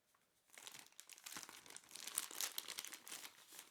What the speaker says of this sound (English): let's cut open the seal very carefully